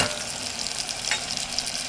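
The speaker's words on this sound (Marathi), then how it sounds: "आता मी तुम्हाला जे मसाले सांगितले बेसिक, हळद, हिंग आणि तिखट," Turmeric, asafoetida and chili powder sizzling in hot oil with softened tomato and onion in a pan for Maharashtrian masale bhat, a steady close frying hiss with faint stirring clicks.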